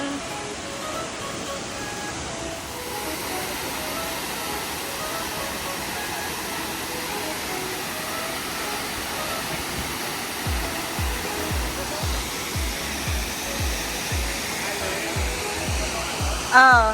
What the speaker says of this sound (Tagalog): Kanumantad Falls.